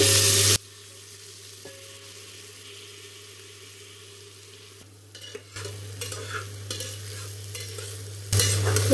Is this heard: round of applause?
no